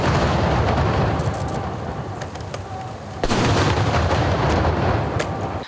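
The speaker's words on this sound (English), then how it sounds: "A 7-gun salute was accorded in honor of Premier Wickremesinghe." Booming artillery blasts of a seven-gun ceremonial salute at a state welcome for a visiting premier in the Maldives, heavy continuous rumble with repeated sharp reports outdoors, loud throughout.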